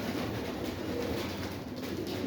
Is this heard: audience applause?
no